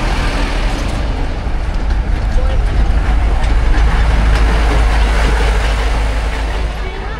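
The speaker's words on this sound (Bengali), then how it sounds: "এই হচ্ছে আপনার রাইডস টয় ট্রেন" A toy train at Eco Park in Kolkata rumbles past, a loud low continuous rolling drone with some wheel clatter, swelling slightly in the middle and easing off at the end.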